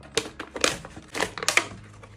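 Plastic packaging of an Air Wick plug-in scented oil starter kit being peeled open, several crisp crinkling and crackling bursts, close and fairly loud, with brief pauses between.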